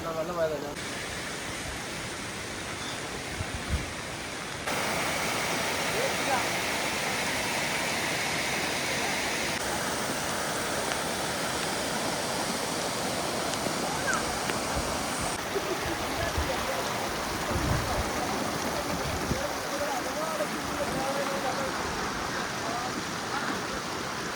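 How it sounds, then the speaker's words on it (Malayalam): Heavy rain falls during a trek to Harihar Fort, heard as a continuous, broad rushing wash that stays loud and even throughout with no voices. "നല്ല മഴയും പെയ്യുന്നുണ്ട് ചെറിയ മഴയൊന്നും അല്ലേ നല്ല മഴയുണ്ട്"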